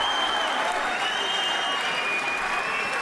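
A boxing crowd at a WBA heavyweight title fight between John Ruiz and Nikolai Valuev applauds after the final round, a dense, steady wash of clapping and cheering from a large arena audience.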